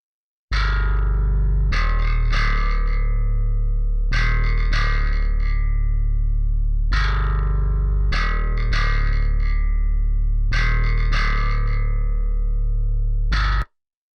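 Heavy distorted bass guitar for a metal song hits big sustained notes in a repeating rhythmic pattern, each accent ringing out with a gritty, effected tone, loud and isolated.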